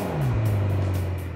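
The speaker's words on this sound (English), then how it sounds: "That's a 2015 McLaren 650S, and yes, this is the 2-Minute Test Drive." Brief steady engine drone from a 2015 McLaren 650S supercar with a twin-turbo 3.8-liter V8, a low hum that dips slightly in pitch and holds, close and fairly loud.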